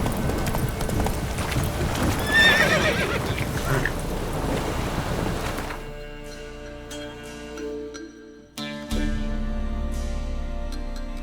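Roach the horse trotting in The Witcher 3, rhythmic hoof clip-clops under wind noise for several seconds, then a sharper run of hoofbeats against quieter game ambience with a brief neigh.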